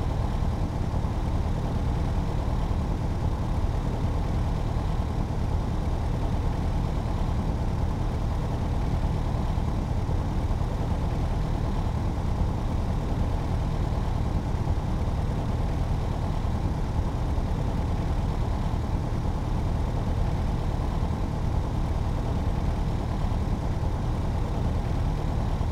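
Steady drone of a Scheibe SF-25 C Falke motor glider engine running in the Prepar3D flight simulator, a loud continuous low rumble holding constant throughout with no talk.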